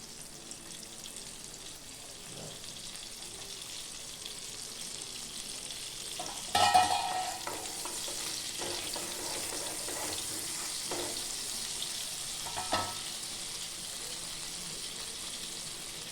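Butter with cumin seeds and green chillies frying in a pan, a low steady sizzle with a sharper crackle burst as ingredients drop in, then continued soft hissing and occasional stirring clinks.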